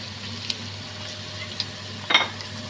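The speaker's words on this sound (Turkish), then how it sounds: "havuçlar karamelize olup güzelce kavrulana kadar Yine pişirmeye devam ediyoruz" Carrots and onions fry in a pan with a steady, soft sizzle, broken by a few light clinks and a brief scrape of stirring.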